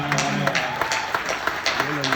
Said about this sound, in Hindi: लोग तालियां बजा रहे हैं